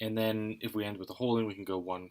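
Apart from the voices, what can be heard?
None of the usual background noises is heard.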